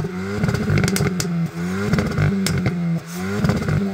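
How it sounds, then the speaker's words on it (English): Hyundai i20N engine revving with its 3-stage sport exhaust turned up to its loudest setting, loud repeated rev blips that rise and drop, with crackling and popping from the exhaust between pulls, close and with no talking. "this Hyundai has a 3-stage sport exhaust, so I'm going to turn it all the way up to 3 obviously and give it the revs"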